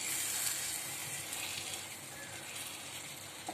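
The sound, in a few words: stuffed brinjals sautéing in pan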